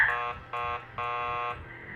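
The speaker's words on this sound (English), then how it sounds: "keep calm and ring the buzzer" A door buzzer for a night porter in the video game Killer Frequency rings in three harsh electronic bursts, the last one longest, over a low background hum.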